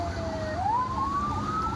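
An ambulance siren wails steadily in the distance with a rising pitch, heard at the scene of a deadly highway crash on the Jakarta–Cikampek toll road amid low background rumble.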